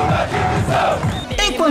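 Supporters of the Comercial football club chant together in a stadium during the pre-match warm-up of a Brazilian cup tie against Vasco: a loud mass of voices rising and falling in rhythmic shouts.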